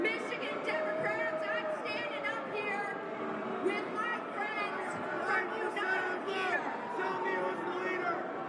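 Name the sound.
crowd booing a Democratic Party establishment candidate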